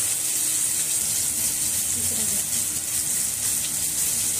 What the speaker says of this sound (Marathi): आता त्यात आपण मच्छी बुडून फ्राय करणार आहे